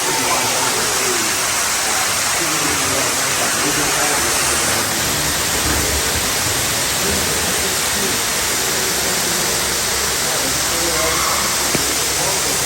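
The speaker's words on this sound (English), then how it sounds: "We're walking down a waterfall." Steady rushing roar of a waterfall close at hand in Yucatán, Mexico, a constant broadband wash of falling water that continues unbroken throughout.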